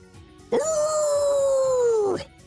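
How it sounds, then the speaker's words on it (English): A dog howls in the Tales of Vesperia video game, one long sustained, loud howl that slides slightly downward in pitch and lasts under two seconds. "A victory howl?"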